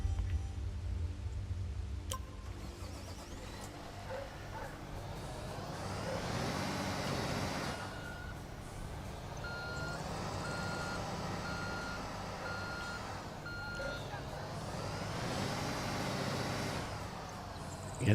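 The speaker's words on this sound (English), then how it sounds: "So let's jump into the dump truck." Dump truck in the Construction Simulator 2 video game drives and reverses, its engine rumbling steadily while repeated reversing beeps sound in regular bursts, close and without talking.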